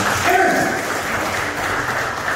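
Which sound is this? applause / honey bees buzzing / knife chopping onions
applause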